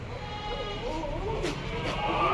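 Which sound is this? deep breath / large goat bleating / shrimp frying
large goat bleating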